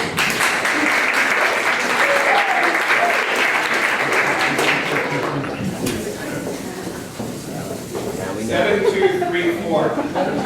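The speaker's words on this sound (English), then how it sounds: "please give him a round of applause" A crowd at a small startup pitch event applauds loudly and densely for about six seconds. The clapping then fades into murmuring voices and a few scattered claps.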